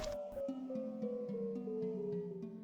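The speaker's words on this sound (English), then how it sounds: "And the song you're hearing is that result." A swapped-in basement music track from Resident Evil 1 Director's Cut, a steady melodic game theme with sustained tones stepping slowly downward, playing alone with no voices.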